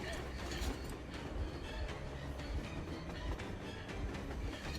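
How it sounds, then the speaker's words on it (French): A train locomotive in the video game Metro Exodus rumbles steadily with continuous rail clatter and rhythmic clacking, loud and dense throughout. "Locomotive."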